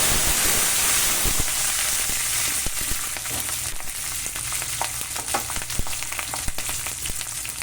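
Curry leaves and green chillies fry in oil with dried red chillies for a tempering, making a steady, close sizzling hiss dotted with sharp crackles and pops throughout.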